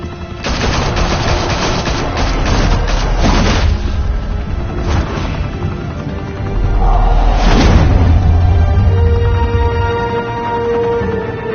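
Rapid gunfire and heavy explosions in a Batman Telltale video game, a dense continuous barrage of shots with booming blasts, loud and close, with no talk over it.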